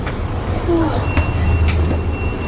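Inside a moving SamTrans-style city bus in Santa Barbara, a steady low engine rumble and road roar fill the cabin, with faint rattles and a brief squeak over the hum.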